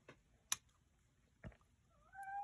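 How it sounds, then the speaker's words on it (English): A cat gives a few faint, short meows indoors, spaced apart with brief clicks in between, and a rising whine at the end. "I apologize for my cat"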